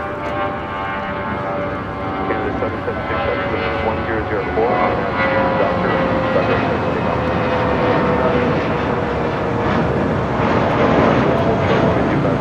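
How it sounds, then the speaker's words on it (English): A Delta Boeing 737 airliner crosses over runway 25 right at LAX, a continuous loud jet engine roar near at hand, while someone talks over it. "Delta 737 about to cross over 25 right."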